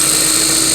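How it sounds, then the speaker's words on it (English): A small Ninja Foodi electric chopper whirs at high speed while blending garlic, pepper and cumin, a loud steady motor whine filling the whole short moment. "I'm going to be using my little Ninja Foodie chopper"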